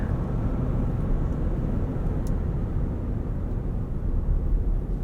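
A 2018 Infiniti QX80 4WD rolling downhill, with a steady low engine and road rumble heard from inside the cabin, even and continuous with no clear shift points.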